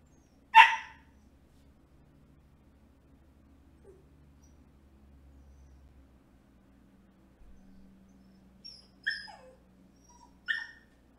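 A new puppy gives a sharp yip, then after a quiet stretch lets out several whimpering, whining barks close by, with faint low background hum between them.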